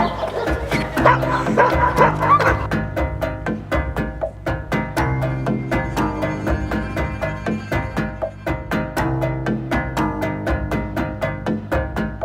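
Avalanche rescue dogs in training on a snowy mountain plateau bark and yip in a rapid, continuous volley, close and loud, with excited whimpers mixed in and no pauses for the full stretch.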